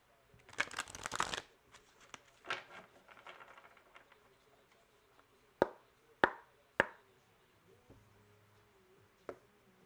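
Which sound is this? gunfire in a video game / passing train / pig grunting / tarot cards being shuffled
tarot cards being shuffled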